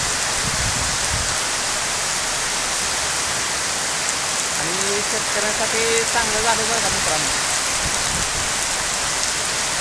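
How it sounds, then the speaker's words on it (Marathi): Heavy rain pours steadily over Velapur village, a dense continuous hiss close by, while someone talks over it partway through. "आज पाऊस चालू झाला आहे."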